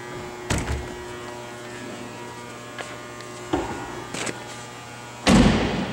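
A 2010 Jeep Wrangler Unlimited Sahara 4x4 door shuts with a few solid thumps, the last one loudest, over a steady low electrical hum.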